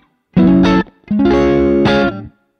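Funk guitar played through a Neural DSP Archetype Cory Wong plugin with distortion engaged: two loud, bright chords, a short stab then a longer sustained phrase, no talking.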